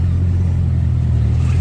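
A Bugatti Chiron supercar on a Monaco street at night, heard as a loud, steady low engine rumble that stays constant and close throughout.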